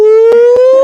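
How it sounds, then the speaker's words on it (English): A tornado siren wails steadily in a town, one loud sustained rising tone that runs the whole time and is briefly interrupted by a few short bursts of other noise. "There's a siren going off now, like the tornado siren in the town."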